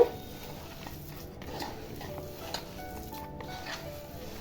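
Crushed garlic being mixed into a sweet-and-sour olive pickle makes soft, quiet stirring and squelching, with a few light scrapes against the bowl, all fairly faint and close.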